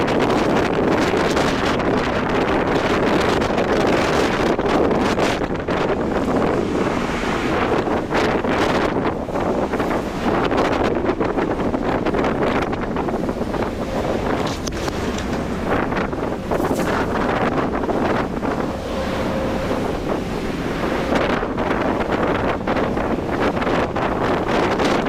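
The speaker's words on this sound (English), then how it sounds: "A giant ship battled massive ocean waves as it pushed forward." A giant ship pushes through massive ocean waves in strong wind, giving a loud, unbroken roar of gusting wind buffeting the microphone over surging water, with no voices.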